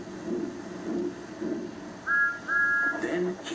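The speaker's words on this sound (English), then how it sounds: "Then he heard a whistle." Two short, high toy train whistle blasts sound in quick succession over a low, muffled rumble, in a wooden railway scene.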